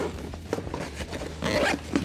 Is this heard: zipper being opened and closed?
yes